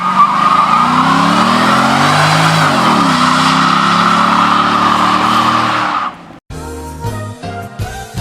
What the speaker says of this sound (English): here's some burnouts to end 2020 with.